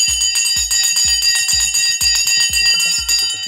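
A bell is rung repeatedly and rapidly during a live stock market broadcast, its bright metallic strikes landing in a fast steady rhythm, loud and close with no speech over it.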